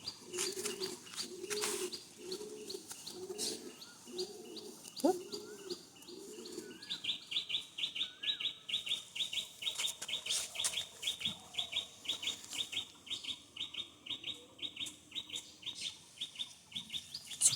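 Pigeons in a flying loft coo in a rhythmic series of soft, low, rolling calls at first, followed by a long run of repeated high chirps from a squab, close and fairly quiet with light rustling.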